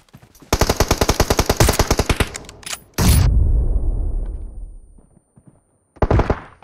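Rapid machine-gun bursts in a shooting video game, with a fast string of sharp close shots, then a loud booming blast that slowly decays, a short silence and a final burst.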